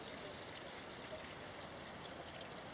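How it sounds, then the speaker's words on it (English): Water is poured into a pot over an open wilderness campfire, a steady close pouring and trickling wash of sound lasting a few seconds with no talking. "All you do is just pour some water in there."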